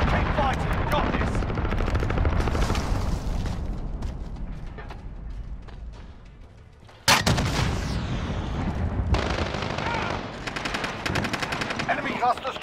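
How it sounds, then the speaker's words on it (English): Heavy explosive blasts and rapid gunfire from a cruise missile strike in the video game Call of Duty Modern Warfare, loud sustained barrages with a short lull and then a sharp boom that restarts dense firing. "Cruise missile away."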